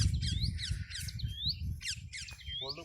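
Birds squawk repeatedly in a forest, harsh rising calls recurring about every half second over a steady low rumble of background noise, with a brief lower-pitched squeak near the end.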